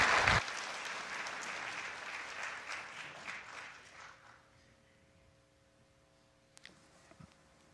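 A church congregation applauds, a dense burst of clapping that starts loudly and gradually fades away over several seconds into near silence.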